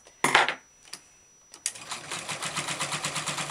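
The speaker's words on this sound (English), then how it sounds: "And then I start sewing again with a 1/4 inch seam." A sewing machine stitches quilt binding with a 1/4 inch seam. A few clicks and a thump come first, then a steady, close, rhythmic whirring chatter of the needle running continuously.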